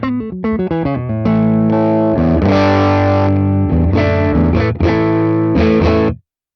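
Distorted electric guitar played through the Morgan Amps Suite amp plugin with the mids fully scooped, a quick run of single notes followed by loud sustained chords that stop abruptly, alone with no talking.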